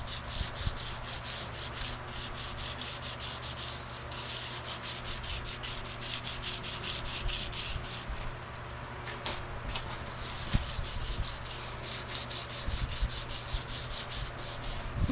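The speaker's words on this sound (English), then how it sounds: "You could also just wet sand this with water, but I like using WD-40." A cast aluminum motorcycle wheel being wet sanded with WD-40 gives a steady, close scratchy rubbing that runs on without a break at an even level, with no voices.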